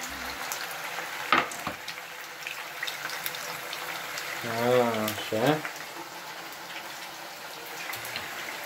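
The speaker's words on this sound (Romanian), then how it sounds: "Da, uleiul e încins, că sfârâie." Meatballs fry in hot oil, a steady close sizzle running throughout, with brief clatter and a spoken voice partway through.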